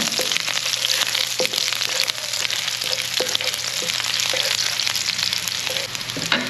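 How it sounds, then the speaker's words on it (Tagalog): Garlic and onion sautéing in a hot pan with oil, a loud, steady sizzle with occasional scraping stirs and clinks, close up with no talking. "Ayan, magigisa na po tayo. Ito na po yung ating bawang at sibuyas."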